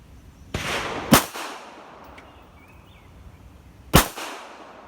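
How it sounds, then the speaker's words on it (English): Two sharp, loud pistol shots from a rusty Bulgarian Makarov fired at a target seven yards away, about three seconds apart, each with a short echoing tail over a quiet outdoor background. "3 shots at 7 yards, taking my time."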